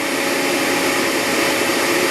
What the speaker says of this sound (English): you will turn vacuum power on